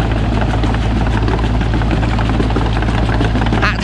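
A loud, steady excavator engine drone while the machine is washed with its tracks lowered into water, a constant low rumble with a faint splashing or rattling burst near the end.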